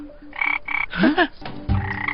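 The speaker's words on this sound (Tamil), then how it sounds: "பச்சை தவளை ஊதுனொன்ன படக்குன்னு வந்துருச்சு" A frog in an anime scene croaks several times in quick succession, close and clear, followed by a brief burst of other noise.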